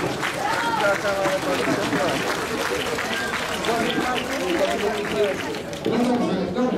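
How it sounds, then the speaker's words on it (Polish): A crowd claps steadily at an outdoor memorial march in Warsaw for the Volhynia massacre anniversary, dense applause mixed with murmuring voices and a brief spoken word. "Wielkie brawa, Katarzyna Sokołowska."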